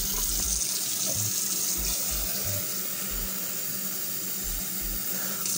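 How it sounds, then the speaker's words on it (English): Water runs steadily from a sink tap into a glass, a continuous close hiss and splash with faint low thumps scattered through it and no talking. "I'm going to fill up another glass of water."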